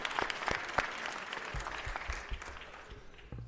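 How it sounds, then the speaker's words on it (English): Applause from a city council meeting audience, a brisk crowd patter with a few sharp nearby claps that gradually thins and fades toward the end, a little low thump or voice near the close. "Give them a round of applause."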